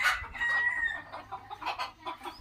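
A flock of about fifty farm chickens clucks and calls close by, with a rooster crowing at the start, then overlapping busy clucking bursts continuing throughout.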